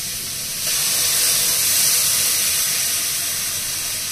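Water splashed into a hot pan of sukto vegetables sets off a loud, steady steam hiss that surges after half a second and holds, close and unbroken, with no talking.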